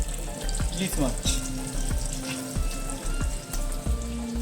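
Fish frying in a pan as the last batch at a Ranna Puja festival cooking, with a steady close sizzle and periodic soft thumps of turning or stirring throughout.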